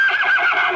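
A horse, a mare, whinnies once in a radio drama set outside a post office, loud and close, alone with no talk over it.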